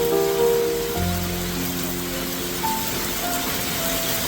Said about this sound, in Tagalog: Lakas ng buhos ng ulan, no?